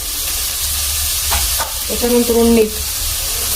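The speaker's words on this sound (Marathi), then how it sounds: "आणि आता ह्याला छान परतून द्यायचं" Cooked chickpeas stir-fry with onion masala and Kitchen King masala in a pan, a soft hiss under a few close spatula scrapes and clinks against the pan, with a brief spoken word.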